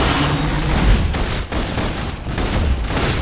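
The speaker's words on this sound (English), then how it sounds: "Here's requesting full suppression gunfire." Sustained suppression gunfire in the video game Love and Deepspace, a dense continuous barrage of shots and low booms filling the whole stretch at steady loudness.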